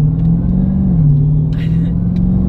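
A 717-horsepower Dodge Challenger Hellcat in sport mode rumbles at a steady low idle-like drone from inside the cabin, with faint road and cabin sounds on top.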